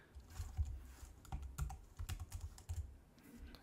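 Quick bursts of keystrokes on a computer keyboard as a username is typed at a Linux login screen, close and fairly quiet clicks in short irregular runs with small pauses, no voices.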